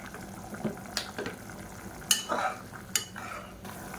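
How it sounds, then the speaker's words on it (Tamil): A pot of mutton biryani bubbles on the stove after rice is added, soft simmering and sizzling with a few clinks and stirring knocks, fairly quiet and close, with no talking. "இப்போ நல்லா கொதிச்சுட்டு இருக்கு."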